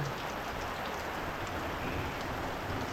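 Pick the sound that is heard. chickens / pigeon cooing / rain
rain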